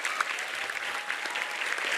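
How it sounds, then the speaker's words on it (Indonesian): A crowd claps steadily for Islamic boarding school students at an Indonesian gathering, a dense wash of applause with no break, heard from a moderate distance. "Tepuk tangan buat seluruh santri."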